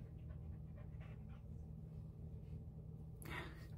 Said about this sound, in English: You hear my dog down there?